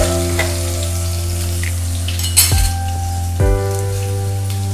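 Green chilies sizzle in hot oil for upma, a loud, steady frying hiss over a constant low hum, with two brief louder crackling spurts.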